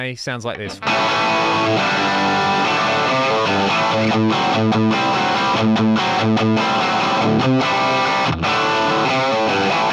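Electric guitar played through an Axe-Fx III Fender Tweed amp model with a TV 57A cab, crunchy distorted chords strummed in choppy rhythmic bursts, loud and close, after a short spoken line at the start.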